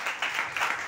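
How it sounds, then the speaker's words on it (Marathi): A church congregation applauds loudly together, a dense, steady wash of clapping from many hands that swells in a few waves over a short burst. "जोरात टाळ्या."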